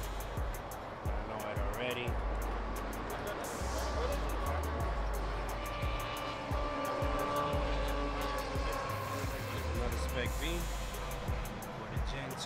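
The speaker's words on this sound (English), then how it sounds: "Still got a lot of cars arriving." Cars rolling in at an outdoor Nissan Sentra car meet, low engine rumble and passing vehicles under steady nearby crowd chatter and talking, with occasional sharper revs and distant traffic throughout.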